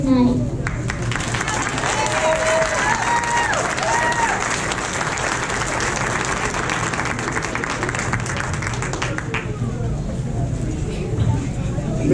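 Sustained, dense applause from an audience at a school Christmas program, loud and steady for several seconds before easing off, with crowd chatter and a voice or two mingled in.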